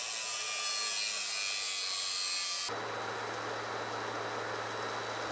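Steady rasping of a hand saw cutting a notch into wood, continuous and fairly close, its tone shifting partway through.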